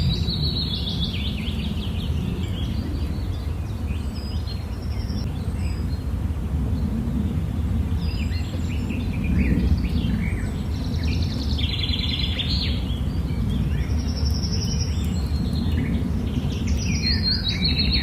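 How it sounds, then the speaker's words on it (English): A young baby parrot gives soft, scattered chirps over a steady, noisy background hum, the small high calls coming intermittently throughout with no talking. "It made soft chirping sounds, as if it was getting comfortable in its new home."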